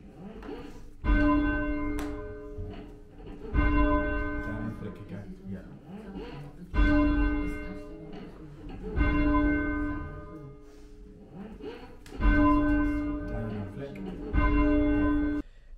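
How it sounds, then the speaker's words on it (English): Church bells ringing at St Peter's Church in Cradley, Halesowen, with a strong bell stroke about every two and a half seconds and a long ringing decay between strikes, loud and steady. "footage of me ringing the bells at St Peter's Church"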